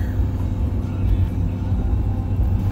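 A 45-foot Hondo truck rolling northbound on I-55, heard as a steady low rumble and road whir from inside the cab, continuous and unchanging.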